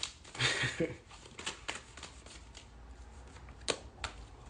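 A deck of tarot cards is shuffled and a card drawn: a crisp riffling burst near the start, then soft papery flicks and taps, close and fairly quiet, with faint talk in the background.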